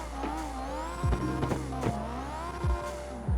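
A tuned SR20 drift car engine in the video game CarX Drift Racing Online revs and drops in short bursts, with quick gear shifts and a constant mechanical drone, close and loud.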